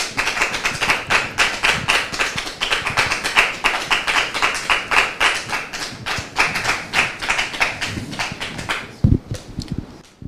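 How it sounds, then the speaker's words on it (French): An audience claps in rapid, dense applause at an evening gathering, sustained and fairly loud for several seconds before tapering off near the end. "Sous vos applaudissements, s'il vous plaît."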